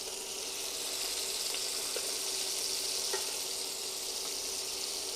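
Scallops browning in a hot frying pan give a steady, dense sizzle throughout, with a few faint pops and light utensil clicks; no voice.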